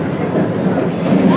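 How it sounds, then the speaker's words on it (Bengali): A passenger train pulls away from Malda station and picks up speed, with a loud, continuous rumble of wagons and rattling wheels on the rails heard close up from inside the train. "ট্রেনটা ছাড়লো কি স্পিডে"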